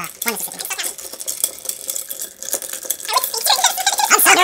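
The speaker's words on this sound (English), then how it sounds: "you're supposed to stir for 30 to 45 seconds" A long bar spoon swirls ice around a mixing glass while a Manhattan cocktail is stirred, giving quick clinking and rattling taps close by under animated, overlapping conversation.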